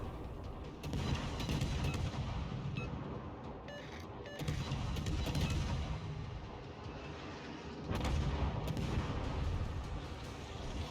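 Naval guns from a Khabarovsk destroyer battle in World of Warships fire in repeated loud booming salvos with rumbling tails over steady ship and ocean noise, with no voices.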